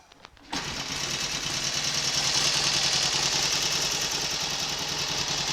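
Hot Royal Enfield Constellation motorcycle engine fires up after a brief quiet moment and settles into a steady, rapid-beat idle, loud and close, with no voices.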